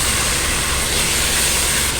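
Meat sears in a pot while browning for an okra and meat tagine, giving a steady, loud, even sizzle and hiss with no break and no talking.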